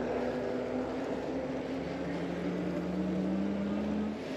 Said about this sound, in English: I'm using no throttle, no pedaling. So I can just sit here and ride with this pretty easy.